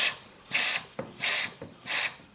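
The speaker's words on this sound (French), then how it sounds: "On va venir pomper et ça va faire une dépression à l'intérieur de la pompe et ça va aspirer" Hand-operated vacuum pump being stroked to draw oil out of a marine inboard engine during an oil change, three rhythmic hissing suction pulls with faint clicks between them, close and fairly quiet.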